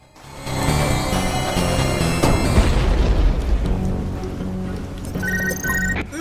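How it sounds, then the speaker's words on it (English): In the video game UnMetal, a platform collapses after a barrage of missile explosions: a loud rumbling boom builds into sustained crashing debris and crumbling, with faint electronic game tones near the end. "The platform collapsed after the ballistic abuse from all the missiles."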